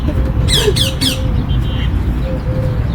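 A few sharp bird squawks ring out close by in quick succession over a steady outdoor rumble.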